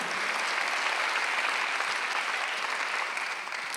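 A church congregation applauding during a Sunday worship service, a steady, even roar of many hands clapping that holds throughout and eases off slightly at the end.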